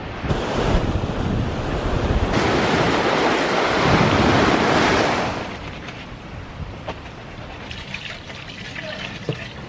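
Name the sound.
ocean waves on a beach in Arugam Bay, Sri Lanka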